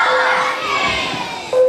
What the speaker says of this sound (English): So let's give him a husky cheer.